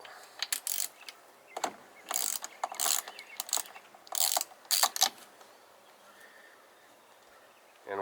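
A ratchet with a 13/16 spark plug socket works a spark plug on an old Honda small outboard motor, giving bursts of rapid clicking strokes close up, separated by short pauses, in a quiet setting.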